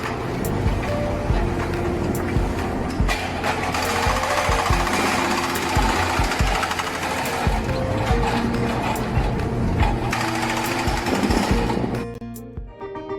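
Remote-controlled BSR6025B demolition machine breaking concrete during clean room demolition, a loud continuous rapid hammering with engine drone that holds steady, then cuts off near the end.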